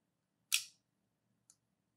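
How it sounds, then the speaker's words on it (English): An Instax Mini 7 instant camera shutter releases via its lever arm: one sharp, crisp snap followed a second later by a faint, tiny click, in an otherwise quiet room. "And the second lever arm releases the shutter,"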